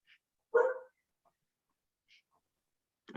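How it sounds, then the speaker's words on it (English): A dog at home lets out one fairly loud bark partway into an otherwise quiet online meeting, followed by a few faint small sounds. "I think my dog might have a comment."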